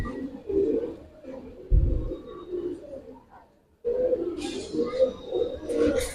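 Giribaz pigeons at a seller's collection coo in low, soft, repeated murmurs, fairly close, with a brief gap partway through and some faint chirps and handling noise behind them.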